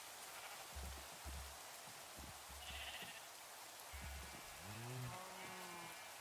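Cows, including a Highland cow, call in modded Minecraft, giving a few short low grunts and then a drawn-out wavering moo over a steady rain-like hiss, fairly faint.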